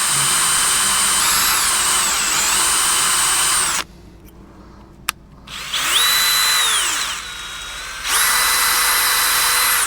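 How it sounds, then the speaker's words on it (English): Close, loud power drill drilling into a 1975 Ford 550 backhoe, running in long high-pitched bursts, stopping twice and revving back up, the pitch shifting as it bites. "Found that a smaller drill bit, when you're just drilling like this, goes in a lot easier."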